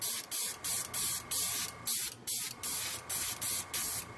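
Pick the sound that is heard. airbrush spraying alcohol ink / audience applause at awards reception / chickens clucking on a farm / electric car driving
airbrush spraying alcohol ink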